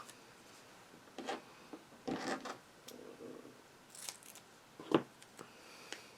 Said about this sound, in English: I'm going to just cut a couple strips that are really narrow.